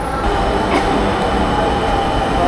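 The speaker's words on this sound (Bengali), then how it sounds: "এই তো চলে এসেছে মেট্রো রেল" A Dhaka metro rail train pulls into a station, a loud, continuous rumbling roar with faint rail squeal, heard close from the platform.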